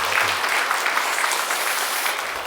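Steady, dense clapping from a church congregation at a Wednesday service, a full round of applause that continues throughout and tapers only slightly.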